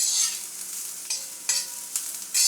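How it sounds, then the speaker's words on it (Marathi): Bitter gourd sautés in oil over a medium gas flame, a bright, steady sizzle that swells in several loud bursts as the pieces are tossed and stirred. "आता हे पहिले तेलामध्ये चांगले 2 मिनटं मी परतून घेणार आहे."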